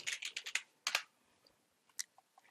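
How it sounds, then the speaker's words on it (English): Keys clatter on a computer keyboard in a quick burst of close clicks, then a pause and a few scattered keystrokes, with no talk. "In the search bar, type in Markdown Editor."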